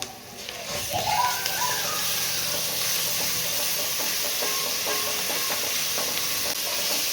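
Ginger garlic paste dropped into a pan of reddened onions for pav bhaji, giving a loud sizzle that swells in the first second and settles into a steady frying hiss with faint stirring scrapes.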